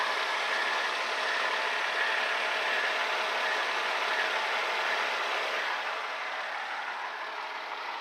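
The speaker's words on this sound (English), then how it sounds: "Start the engine." A 2001 Mercedes-Benz C320 idles steadily after an oil change, a smooth, even engine hum heard close and alone that eases slightly toward the end.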